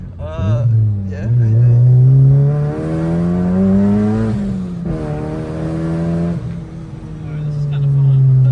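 A manual car's engine drones and revs while being driven, a steady low, close hum that climbs and eases in pitch for several seconds without a break.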